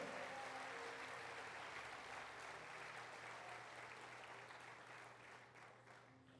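A church congregation applauding steadily during a sermon, a dense sustained patter of many hands at moderate volume that slowly tapers toward the end.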